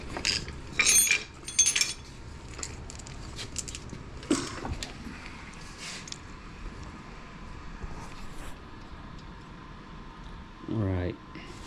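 A front nut comes off the lower unit of a Mercury Optimax 150 outboard with quick ratcheting clicks and metallic tool rattles, close by, followed by a brief whirring ratchet spin near the end.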